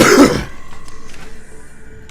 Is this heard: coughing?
yes